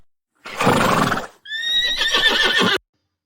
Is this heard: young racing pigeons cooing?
no